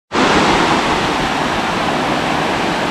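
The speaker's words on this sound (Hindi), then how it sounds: "ये नीचे पानी बह रहा है" Water rushes steadily in a stream below a hillside village in Swat, a dense, continuous broadband roar that starts abruptly and holds at a loud, even level throughout.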